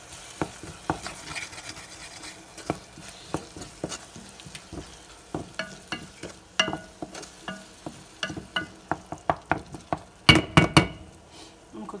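Asparagus cooking in a pan over low heat, with a steady soft sizzle broken by repeated sharp clinks and scrapes of a utensil stirring against the pan, ending in a cluster of louder knocks.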